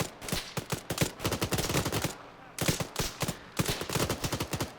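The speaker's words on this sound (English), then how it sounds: "I think we may just have to open fire on them." Bursts of automatic gunfire in Arma 3 during a Second Falklands War battle, rapid loud rattling volleys in two main strings separated by a brief pause.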